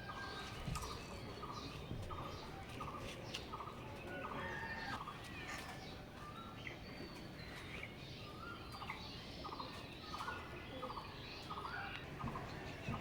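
Teddy pigeons from an Omani bloodline pair, kept in a loft while molting, give off steady soft cooing and clucking calls. The calls repeat in a regular rhythm over a dense, continuous background of other birds.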